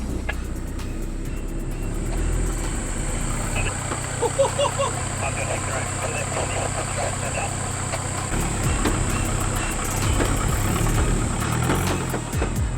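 A Toyota Hilux crawls slowly over an off-road track, its engine idling low and steady in the foreground, with a few faint knocks and rattles as it moves.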